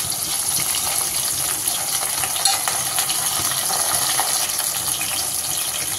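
Shallots, garlic and green chillies sauté in oil for a drumstick prawn kulambu, producing a dense, even, close-up hiss of sizzling that runs unbroken throughout.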